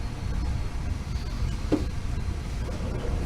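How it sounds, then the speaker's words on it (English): Swim spa jets churn in a continuous low, steady rumble, with a brief faint squeak partway through and no voices. "that's the sound of my swim spa."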